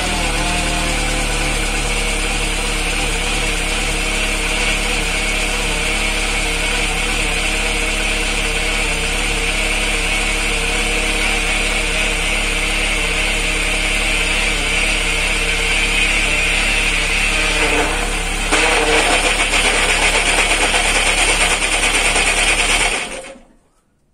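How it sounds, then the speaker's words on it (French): A Peugeot 106 petrol engine idling, a steady loud close mechanical drone with a slight rise near the end before it cuts off abruptly. "Donc je vais faire un petit démarrage, la laisser tourner un petit peu, voir ce que ça donne"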